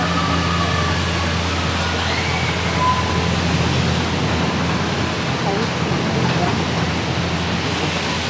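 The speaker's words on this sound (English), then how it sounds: "So there's the mighty waterfall." Steady, dense rushing roar of the large waterfall at Blackpool Pleasure Beach during the Halloween season, loud and constant throughout with no breaks.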